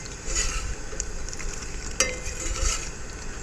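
Eggs fry in a pan at a tailgate camp cook, giving a close, steady sizzle with soft crackles and one sharper pop partway through, no talking.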